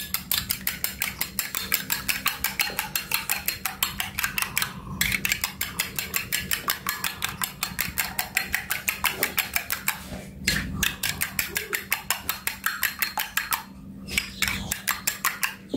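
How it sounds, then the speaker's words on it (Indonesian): Eggs whisked in a bowl with a fork or whisk, producing a fast steady stream of close rhythmic clinks against the bowl, pausing briefly a few times before resuming. "Kita kocok dulu."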